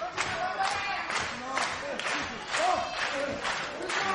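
Arena crowd at a NOAH pro wrestling tag match, giving steady, dense applause with bursts of claps and crowd noise under a commentator's voice.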